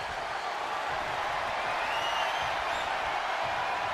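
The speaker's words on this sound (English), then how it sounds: "The roar of this crowd." A wrestling arena crowd in WWE 2K22 roars in a continuous, loud wash of noise that holds steady throughout, with faint whistles cutting through near the end.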